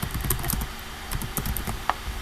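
Keystrokes on a computer keyboard entering a domain name during website setup, a steady run of close, moderately loud clicks with no talking.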